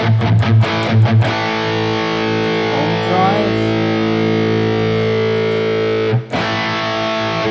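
A Kemper profiler plays an overdriven, distorted electric guitar tone with the gain turned up high: a few quick picked hits, then one long sustained chord ringing loudly, cut off near the end, then a fresh attack.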